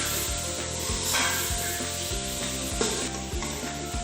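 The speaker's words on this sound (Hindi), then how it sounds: "अब हम प्याज को 5 मिनट के लिए पका लेंगे।" Onions with red chilli powder, turmeric, salt and tomato cook in a pan, a soft continuous sizzle with rhythmic scraping and stirring strokes close by, no voices.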